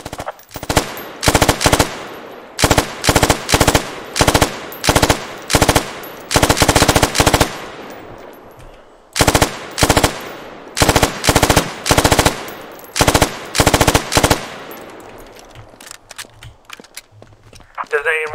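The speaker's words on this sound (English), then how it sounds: "automatic rifleman and machine gunners carry a machine gun like this to the field" A machine gun in the military shooter Squad fires loud, close bursts of rapid automatic shots, about a dozen short volleys separated by brief pauses, with the last rounds trailing into a fading echo.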